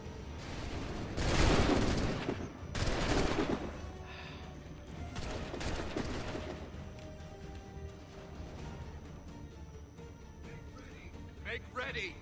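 Musket volleys crack out in loud bursts during a battle in Assassin's Creed III, with two big rolling blasts followed by smaller scattered shots and clatter, while soldiers shout commands between the firing.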